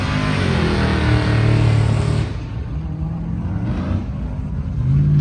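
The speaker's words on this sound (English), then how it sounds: "these people doing burnouts pulling out of here" Cars doing burnouts as they pull out of a cruise event give off a loud, sustained engine roar with a rising rev, then a rougher drone that swells again near the end.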